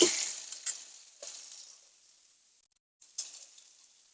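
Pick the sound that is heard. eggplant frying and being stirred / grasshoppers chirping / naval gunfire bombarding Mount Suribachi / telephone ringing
eggplant frying and being stirred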